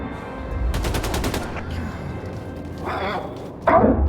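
Shotgun fire in a video game, a quick burst of about six sharp shots early on, followed by a couple of louder impacts near the end over a steady busy game background with some voice activity.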